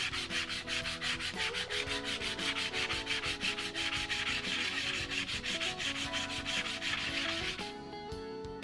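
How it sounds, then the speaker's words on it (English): Rhythmic back-and-forth rasping of a wooden wing spar sanded against a flat surface for a model I-beam wing build, even close strokes that stop just before the end, with no talking. "Sand the spar carefully against a flat surface."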